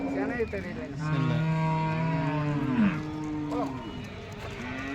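Cattle at a cow market in Erode, with several long mooing calls close by and a busy crowd murmur underneath.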